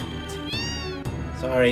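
Cats meow in the video game Final Fantasy VII, two or three short calls over steady background music, with a voice speaking briefly near the end.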